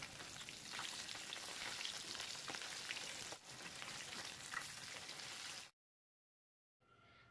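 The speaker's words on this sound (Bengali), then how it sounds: "এখন মাছগুলোকে একটু উল্টে পাল্টে লাল লাল করে ভেজে নেব" Hilsa fish pieces frying in hot mustard oil, a dense, steady sizzle that cuts off abruptly, then a brief quieter return of sizzling.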